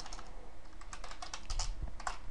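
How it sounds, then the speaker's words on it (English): Quick, uneven typing on a computer keyboard set up for gaming, with close, crisp key clicks in bursts and no talking. "I've got my keyboard set up for Call of Duty Black Ops, so it's doing crazy things as I type"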